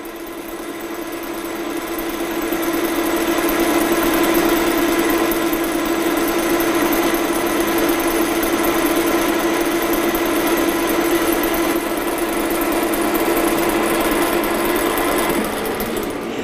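Lathe running in a fitting and turning workshop: a steady, loud mechanical hum with a constant whining tone that ramps up at the start and holds evenly, with no talk.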